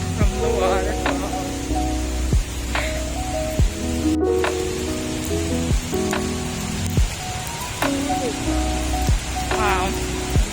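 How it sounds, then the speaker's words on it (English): A steady, heavy hiss of falling spray from Victoria Falls, Zimbabwe, fills the scene, with voices talking over it at times. "So much rain from the waterfall."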